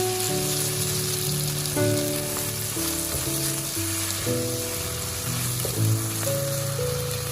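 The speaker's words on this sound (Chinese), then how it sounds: "把鸡蛋、豆腐两面都煎至金黄，这样吃起来才会更香。" Egg and tofu fry in a pan, giving a loud, dense, continuous sizzle like rain on a surface, heard close with faint music in the background.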